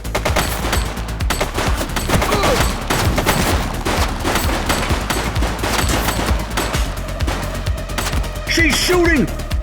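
Rapid gunfire from a shootout in the police game The Precinct, loud dense bursts of shots rattling continuously throughout with voices briefly heard near the end.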